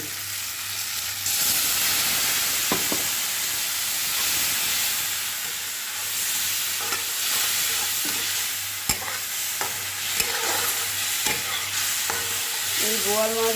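A boal fish curry cooks in a pan with cumin and coriander powder just added, giving a steady sizzle broken by occasional stirring scrapes and clinks, with no voices.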